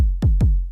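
Two punchy, heavy synthesized kick drum thumps, heavily processed in Ableton, with a sharp click on the attack and a long low tail, heard alone in quick succession.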